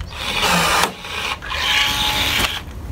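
Milwaukee M12 cordless riveter setting pop rivets, with two whirring motor cycles of about half a second and a second, each ending in a short snap, no speech.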